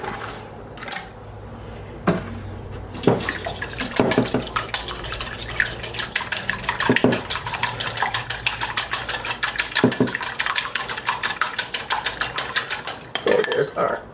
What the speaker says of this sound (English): the same bowl the pumpkin was in, I'm just going to whisk up the eggs